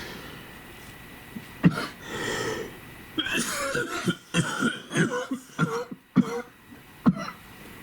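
A series of harsh coughs and throat clearing, sharp bursts coming in uneven succession, close to the listener with some breathing between.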